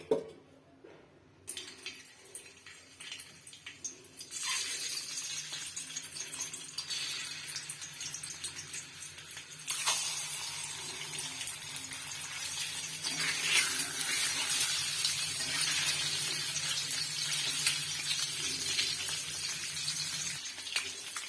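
Eggs frying in oil in a pan for egg curry: a steady, close sizzle that grows fuller and louder about halfway through and keeps a dense crackle to the end, with no talking.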